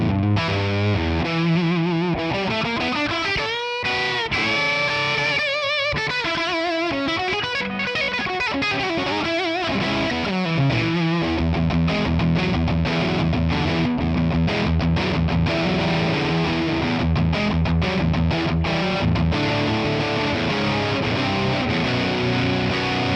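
A fuzzy, heavily distorted electric guitar plays through a Tonex ONE amp capture called dimed fat, with thick sustained chords and riffs continuing without pause and no reverb.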